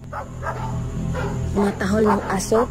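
Several dogs bark and yip at night in a quiet village, in short bursts close by, mixed with voices talking.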